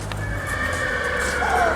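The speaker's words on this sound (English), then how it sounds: "Oh, we can hear the horses now. Lipizzaners." Lipizzaner horses neigh in a stable in Vienna while hay is brought at feeding time, a loud, close whinny rising and trailing off over a low background murmur.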